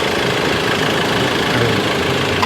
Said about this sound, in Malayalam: ലാൻഡ് റോവർ ഇപ്പോൾ എഞ്ചിൻ വർക്കിംഗ് ആണ്.